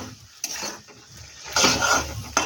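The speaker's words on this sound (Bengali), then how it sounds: "চিনির সাথে আবারও ভালো করে মিশিয়ে নেব।" A spoon stirs a potato and drumstick curry in mustard sauce with added sugar, giving short scrapes and clinks against the pot over a faint sizzle, close and brief.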